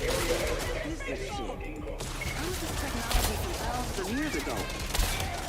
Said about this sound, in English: Oh, it's a laser shotgun.